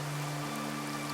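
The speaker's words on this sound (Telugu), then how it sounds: "దారి మధ్యలో వర్షం మొదలవుతుంది." Rain falling on a road during an auto-rickshaw ride, a steady, dense patter with a constant low hum underneath.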